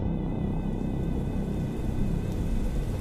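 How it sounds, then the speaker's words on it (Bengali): A steady, continuous hiss of rain falls outside a window, used as a sound effect in a ghost story drama, with no voice over it. "জানালার বাইরে তখনও বৃষ্টি পড়ছে টুপটাপ শব্দে।"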